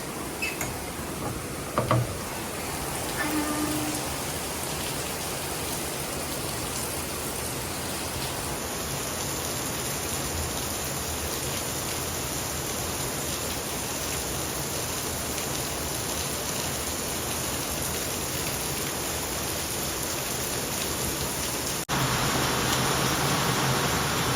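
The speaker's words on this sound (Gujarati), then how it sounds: "વરસાદ ચાલી રહ્યો હતો" Steady rain falling outdoors in a steady broadband hiss, continuous and fairly even for the whole stretch, growing slightly louder near the end, with no voices.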